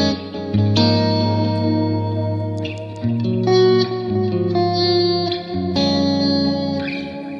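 Electric guitar played through a Strymon Volante tape delay with spring reverb, sustained chords and notes ringing with chorus-like wash and repeating echoes, loud and continuous with no talking.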